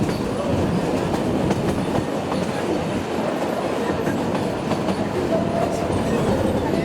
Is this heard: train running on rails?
yes